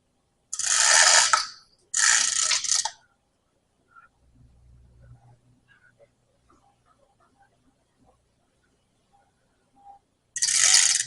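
Ratcheting wrench work on a CAT 950M wheel loader's lift cylinder torque rod nut: three loud bursts of rapid ratchet clicking, two close together at the start and one at the end, with faint metallic handling in the quiet between.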